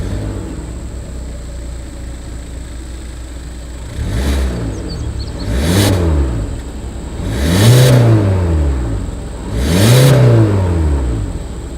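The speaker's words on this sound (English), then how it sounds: "As always, here is that exhaust clip." A 2020 Hyundai Elantra's engine and exhaust are revved four times in a row. Each blip rises and falls, and the later revs run louder and longer, over a steady idle.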